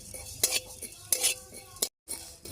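Whole coriander and cumin seeds dry-roasting in a pan, stirred with a utensil that scrapes and clinks in several sharp bursts over a faint sizzle, with a brief dropout of sound partway through; no talking.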